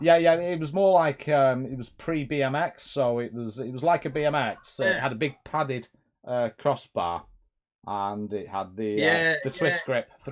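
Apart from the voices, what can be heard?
No everyday noise stands out behind the speech.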